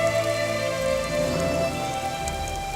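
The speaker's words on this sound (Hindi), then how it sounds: "लगता है बारिश नहीं रुकेगी" Steady rain falls continuously over about three seconds, a dense, even hiss of drops on surfaces with faint musical tones running underneath, and no voices.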